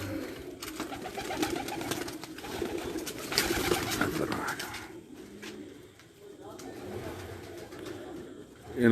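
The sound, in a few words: pigeons cooing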